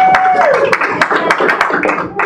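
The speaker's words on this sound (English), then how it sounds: "Give her a round of applause, guys" A small audience at a fashion show press conference in Los Angeles breaks into applause, with a brisk run of distinct, close hand claps lasting a couple of seconds.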